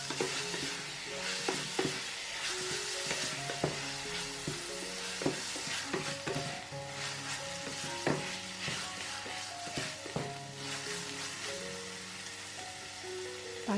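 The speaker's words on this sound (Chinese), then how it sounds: "再把肉末也放进去炒" Minced meat with garlic stir-fried in an oiled wok for a garlicky enoki mushroom dish, a steady dense sizzle with frequent scraping and clattering strokes of the spatula throughout, close and fairly loud, no voices.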